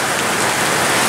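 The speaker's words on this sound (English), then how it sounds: "This is the worst Webster rain I think I've ever seen." Heavy rain pours down in a dense, loud, steady hiss of drops hitting the ground, with no pauses across the whole short stretch.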